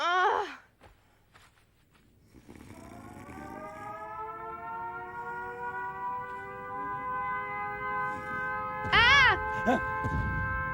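An animated male cat gives a long, rising, drawn-out meow that builds and holds for several seconds, preceded by a short cry at the start and followed by a louder wavering yowl near the end, with no talking.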